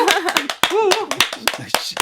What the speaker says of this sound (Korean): 자, 박수